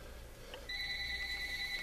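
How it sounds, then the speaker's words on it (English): A phone rings starting partway through, a steady electronic ringing tone that holds on clearly over a quiet, faint background. "my phone is ringing"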